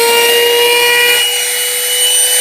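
A hand-held edge trimmer bit whines steadily as it cuts acrylic edge tape on a door, a loud continuous tonal hum with a harsh rasp that fades slightly halfway through.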